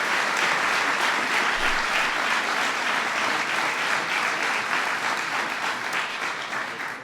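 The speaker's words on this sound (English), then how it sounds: "and that's worth applause." Sustained, dense applause from the audience at a presidential event welcoming college basketball teams, loud and even throughout with no talk over it, only easing slightly at the very end.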